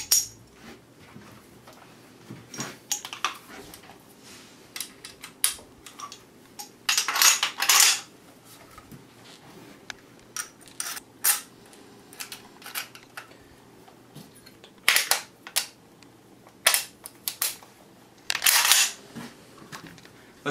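Metal parts of a modified SKS rifle bolt being reassembled and test fitted, giving sharp, close clicks, clacks and scrapes in irregular bursts with quiet gaps between them and no talking.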